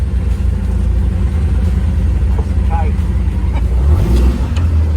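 ATV engine idling and then revving louder as it pulls away at the start of a Kualoa Ranch tour in Hawaii, a close, steady rumble with voices talking over it.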